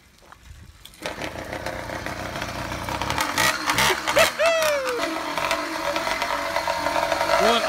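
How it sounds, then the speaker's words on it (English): A two-stroke motorbike engine runs at idle, a steady rough putter close by, with a few rising whistly tones and clatter over it and people talking around it. "Here's some videos on this bike running."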